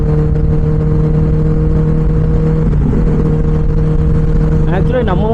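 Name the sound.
Benelli 600i motorcycle exhaust revving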